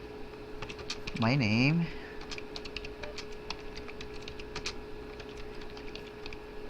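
Light, rapid taps of HTML being typed on a computer keyboard, soft and close, with a short spoken phrase near the start and scattered keystrokes continuing afterward.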